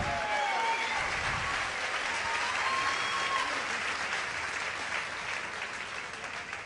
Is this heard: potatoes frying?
no